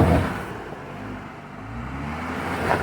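A Jeep engine revs on a trail climb in two-wheel drive, a steady mid-pitched drone with a brief rise near the end, close and continuous with no talking.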